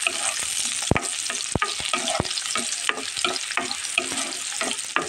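Onion and garlic paste frying in a pan for masoor dal bhuna gives a continuous bright sizzle, with sharp spoon scrapes and taps against the pan at irregular intervals, close up and without speech.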